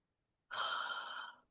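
One long, deep breath during guided breathing meditation, a soft airy rush that starts suddenly and holds steady for about a second before fading. Close and quiet, with no voice over it.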